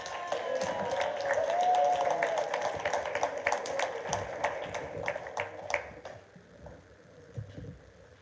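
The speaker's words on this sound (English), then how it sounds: "Can we get a warm round of applause for them" An audience claps warmly for performers after a devotional Hare Krishna presentation, scattered distinct hand claps over about six seconds with a brief held tone early on, then tapering off into quieter room noise.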